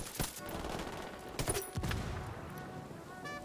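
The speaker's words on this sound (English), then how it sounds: "So many bullets." Video game gunfire in dense, rapid bursts of shots, loud and close, with a few sharp volleys standing out amid the clatter and no talk over it.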